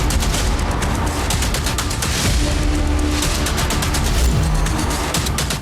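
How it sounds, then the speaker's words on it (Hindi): Blasts from exploding Ukrainian armored vehicles on a battlefield: a dense, continuous roar with repeated sharp cracks and booms, loud throughout with no speech. "यूक्रेनी आर्मर्ड व्हीकल्स में बहुत बड़ा ब्लास्ट हो गया।"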